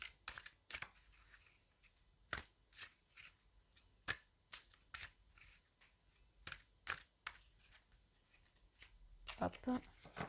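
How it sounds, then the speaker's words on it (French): Tarot cards being shuffled by hand, a series of crisp riffling bursts in uneven rhythm, close and fairly quiet, with pauses between bursts. "Le mélange des cartes n'est toujours pas mon fort."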